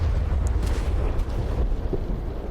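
Explosion from a bombing run in the DCS World flight simulator on the Iraq map, a loud, dense rumbling blast that fills the whole moment without letting up, with no talking.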